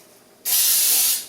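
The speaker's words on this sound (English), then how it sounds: "I'm going to spray my mug." A can of baking spray fires into a mug, a single loud close hiss starting abruptly and holding steady for under a second before tapering off.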